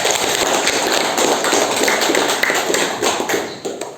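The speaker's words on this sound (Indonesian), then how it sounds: "tepuk tangan untuk kalian semua" Classroom applause in an Indonesian junior high social studies lesson, a dense burst of hand clapping that stays loud and steady before thinning out toward the end.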